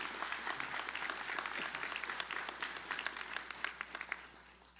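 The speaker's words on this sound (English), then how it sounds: "Please give them a round of applause for their incredible support" Steady audience applause fills a university white coat ceremony hall, dense even clapping from a large crowd sustained throughout with no voices over it.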